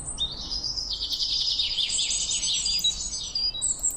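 Birds chirp and tweet in quick, bright bursts over a soft, low ambient background, steady throughout and moderately close.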